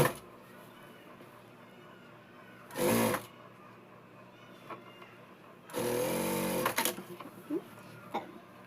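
An electric sewing machine stitches lining cloth onto a Punjabi dress, running in two distinct bursts, one short and one longer, loud and close against a quiet room.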